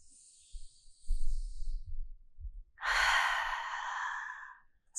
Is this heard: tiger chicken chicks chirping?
no